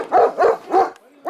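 A dog gives three quick barks in a row, loud and close, then a brief pause before the start of a fourth bark.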